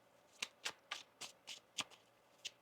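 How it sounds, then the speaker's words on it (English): Tarot cards shuffled by hand during a reading, giving about eight quick riffling bursts in a fairly even rhythm, close and crisp against a quiet background. "One more shuffle here."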